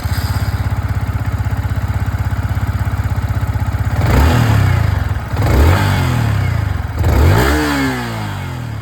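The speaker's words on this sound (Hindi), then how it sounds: "सबसे पहले मैं आप लोगों को XSR की आवाज़ सुना देता हूँ" A Yamaha XSR 155 motorcycle idles with a fast, even exhaust burble, then revs hard three times, each blip rising sharply and falling back, loud and close.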